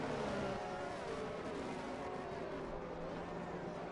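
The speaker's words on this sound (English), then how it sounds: "I can hear the cars perfectly fine." Race cars in a PlayStation racing game roar with a steady, continuous engine drone, a faint but unbroken whine of several cars lapping the Miami circuit with no pauses.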